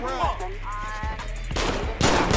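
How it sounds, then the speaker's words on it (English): Rapid bursts of gunfire in the video game GTA V during a street robbery, loud, dense volleys over game sounds, with a voice speaking. "Oh, he's shooting back at me."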